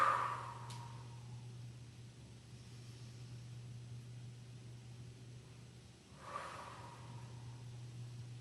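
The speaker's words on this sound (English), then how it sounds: "Nice deep breath." Deep breaths during a yoga-Pilates balance exercise come through faintly, one at the start and another about six seconds later, over a low steady hum, with no speech.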